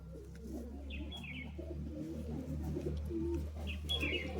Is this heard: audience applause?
no